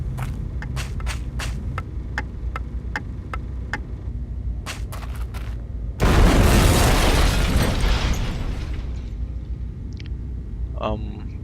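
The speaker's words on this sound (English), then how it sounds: "That's not good. That's a bomb." A bomb goes off in the video game Syberia: a sudden loud blast that rumbles and decays over a couple of seconds, after a run of sharp clicking footsteps and before faint closing chimes.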